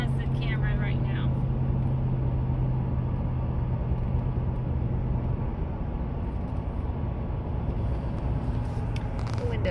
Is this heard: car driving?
yes